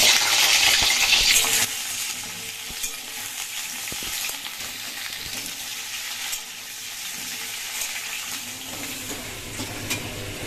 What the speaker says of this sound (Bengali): তেল গরম হয়ে গেছে, এবার আমি আলুগুলো আগে ভেজে নেব।